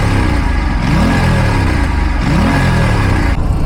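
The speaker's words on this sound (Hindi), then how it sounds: "बस वो थोड़ा थोड़ा नॉइज़ कर रहा है इंजन के इस साइड से।" An Aprilia RS457 motorcycle engine with a suspected valve-clearance tick runs close up and loud, held at a steady idle with two brief blips of the throttle that rise and fall. No one speaks.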